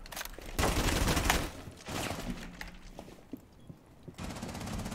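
Gunfire in a Rainbow Six Siege match: a loud, dense burst of rapid shots, a shorter volley after a brief gap, then scattered quieter shots and mechanical clatter.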